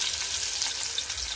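Onion sizzling in two to three spoonfuls of hot oil for a crab masala, a steady close crackle and hiss that continues without a break and with no voices over it.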